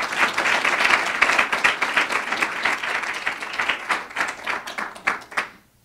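Audience applause welcoming Poet Laureate and Professor Paul Willis at a downtown poetry reading, steady clapping from a modest indoor crowd that tapers off and ends after a few seconds.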